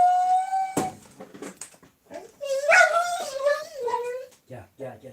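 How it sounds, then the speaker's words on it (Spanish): A dog in an office lets out a long, high whine, then a sharp yip, followed by wavering whimpers and short barks close by, with a person's voice mixed in. "mi perro que lo tengo aquí en el despacho y de vez en cuando le da"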